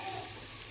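Vegetables fry in hot oil for pulao, a soft, steady sizzle that is brief and faint.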